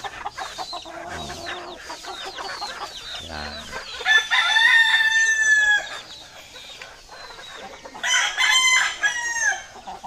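A tethered rooster crows twice on a backyard farm, each crow loud and close, with clucking and other farmyard sounds between them.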